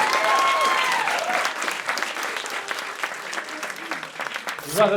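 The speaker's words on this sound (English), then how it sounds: "let's round of applause for your friend with the ball" Loud applause from a live stand-up comedy audience in Bucharest fills the space, steady at first and then thinning out as a few voices rise near the end.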